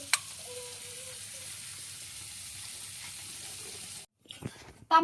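Small puti fish fry in oil outdoors, a steady, fairly quiet sizzle lasting several seconds before it suddenly cuts off, followed by a few short clattering handling noises.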